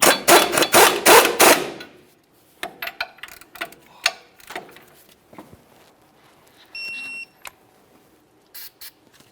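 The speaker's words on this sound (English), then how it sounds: "We'll bottom this one out and torque it to 37 foot-pounds." Ratcheting torque wrench tightening the upper ball joint nut on a 1999-2006 Chevrolet Silverado 1500 steering knuckle: a loud burst of rapid clicks, then sparser metallic ticks and taps, a short tonal beep, and a few more clicks nearby.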